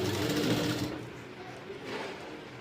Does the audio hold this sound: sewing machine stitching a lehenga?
yes